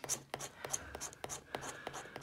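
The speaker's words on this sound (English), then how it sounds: "Look, I've scratched the card." Coin or fingernail rubbing a Fruity Fortune scratch card, short close scraping strokes repeating in a quick rhythm, quiet with faint low murmuring underneath.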